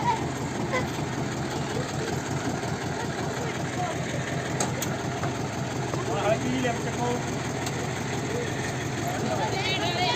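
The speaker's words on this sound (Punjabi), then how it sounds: "ਉਹ ਤਾਂ ਸੀ ਯਾਰ ਟਰੈਕਟਰ ਖੁੱਬ ਗਈ" A tractor stuck in the ground idles with a steady low chugging rumble throughout, while people talk over it.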